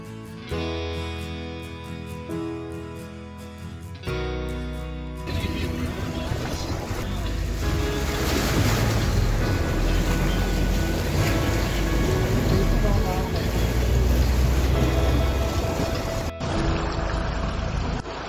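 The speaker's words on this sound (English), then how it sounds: "There was no other way to go, so we decided to drive through the water." A car drives through deep floodwater on a farm road, with a constant heavy rushing and sloshing that begins after a few seconds of music and builds loud, as if the car were a boat.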